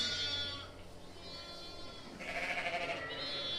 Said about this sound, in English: There's a Suffolk cross with Suffolk cross lambs.